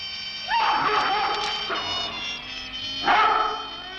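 Dogs bark and yip in a 1973 film scene, several calls at mid distance in a short cluster with a second burst a few seconds later, over a steady hum.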